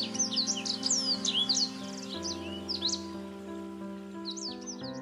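A bird sings a quick series of bright chirps and warbling whistles over a steady tonal musical backing, with a pause and then a brief return of the song near the end.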